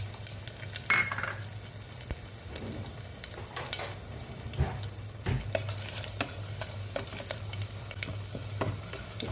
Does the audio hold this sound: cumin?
yes